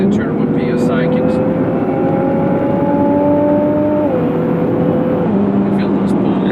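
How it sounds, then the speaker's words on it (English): A 2017 Nissan GT-R's turbocharged engine accelerates hard, its rising whine climbing steadily in pitch, then dropping at two gear shifts; loud and continuous with a constant underlying rumble, and someone talks over it. "as I give it gas, the turbo PSI kicks"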